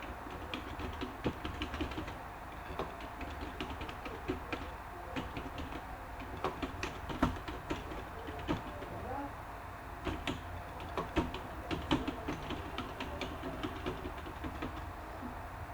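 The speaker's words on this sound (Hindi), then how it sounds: "चलिए मज़ीद मैं आपको समझाने के लिए टेक्स्ट टाइप कर लेता हूँ" Someone types on a computer keyboard while entering text in Microsoft Word 2010, with a steady run of quick, light key clicks over a faint background hum.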